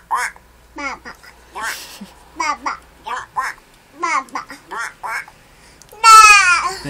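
A voice imitates a duck in a playful animal-sounds game with a child. A string of short, rhythmic quacks is heard up close, ending in a louder, drawn-out quack.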